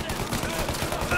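Rapid gunfire in a Mafia: Definitive Edition street shootout, a busy run of overlapping shots and bursts, moderately loud and continuous across the short stretch.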